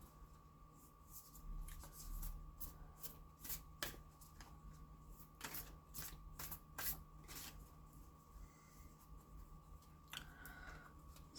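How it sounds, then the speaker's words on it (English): Tarot self-care cards are shuffled up close in a quiet room, with a soft continuous riffle broken by crisp snapping flicks of card edges over a faint electrical hum. "And now I'd like to pull a couple of self-care cards."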